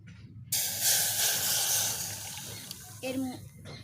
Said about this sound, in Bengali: আমি এইবার এই দুধটা দিয়ে দিচ্ছি।